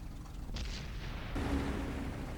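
A derp gun tank cannon firing in World of Tanks, one heavy boom that rings out and fades over steady engine rumble.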